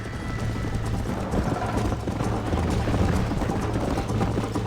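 Horse hooves galloping in the video game Red Dead Redemption during a race, a steady dense drumming of hoofbeats, loud and continuous, with faint background game ambience.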